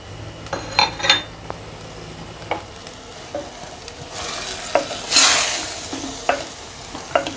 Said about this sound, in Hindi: अब मसाले शामिल करके मज़ीद 2 से 3 मिनट के लिए कीमे की भुनाई करते हैं।